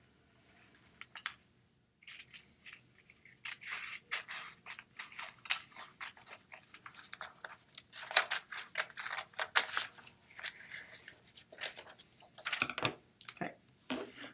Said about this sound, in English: next, I will cut the paper out.